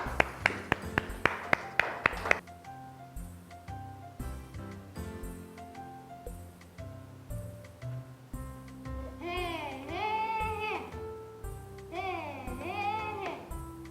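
A group of children claps in a quick burst of about a dozen sharp claps during an English lesson, followed by quieter instrumental music with chirpy sung phrases.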